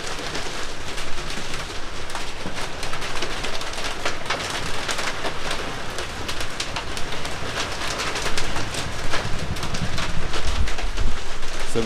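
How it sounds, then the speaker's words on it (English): Heavy monsoon rain drumming on an open, partly built roof just after pea-sized hail, a dense, steady hiss and patter that grows slightly louder toward the end, with no talking. "it sounds really cool when the rain is hitting that"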